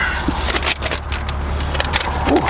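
Inside a 2001 Chevrolet Corvette convertible pulling away, low engine rumble under scattered rattles, clicks and handling noises, close and fairly loud.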